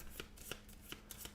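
Cards from the Concordia board game shuffled by hand in a quick burst of papery riffles and soft slaps, close and fairly quiet, with no talk.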